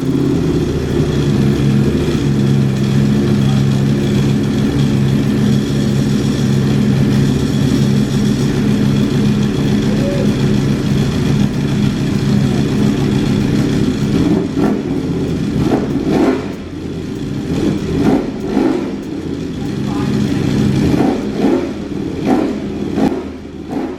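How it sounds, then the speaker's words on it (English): A Ducati Panigale motorcycle fitted with a new aftermarket exhaust revs loudly and steadily at close range, a continuous engine roar that keeps going throughout, with a few sharper throttle blips near the end. "this is actually the exhaust we're going to be putting on our motorcycle"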